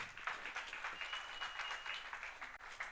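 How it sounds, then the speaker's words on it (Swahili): Congregation applauding in a church service, steady moderate clapping throughout, slightly distant and soft. "Simpigie Beatrice makofi."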